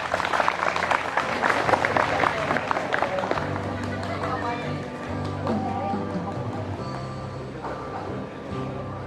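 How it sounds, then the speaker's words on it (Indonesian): School audience at a Teachers' Day talk show applauding, a mix of clapping and crowd noise at moderate volume that fades gradually, with talking throughout. "Boleh kita berikan tepuk tangan untuk Pak Molis"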